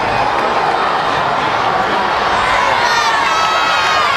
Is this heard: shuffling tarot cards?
no